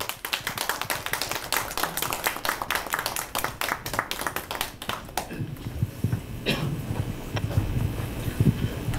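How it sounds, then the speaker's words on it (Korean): An audience applauds to welcome a visiting school principal at a Korean humanities lecture, with dense, steady clapping for about five seconds that then fades into quieter room noise and scattered shuffling. "뜨거운 손뼉 부탁드립니다"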